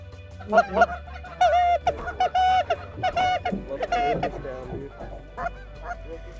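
Many geese honk in a loud, overlapping chorus over a winter wheat field, with calls bursting irregularly and some nearby, over a low steady background hum.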